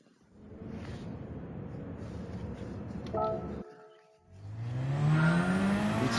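A Peugeot mid-engine, rear-wheel-drive race car in Gran Turismo 7 at Dragon Trail, its engine note droning steadily, dipping briefly, then rising in a loud revving climb as it accelerates.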